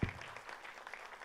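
Applause from an event crowd welcoming actress Madhu onto the stage at a Bhojpuri film trailer launch, a short, moderately loud burst of clapping that stays steady and diffuse throughout.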